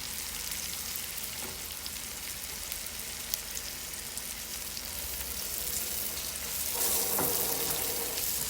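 Fresh chili and garlic sizzle steadily in a hot pan, a dense continuous frying hiss that swells a little louder toward the end, with no voices over it.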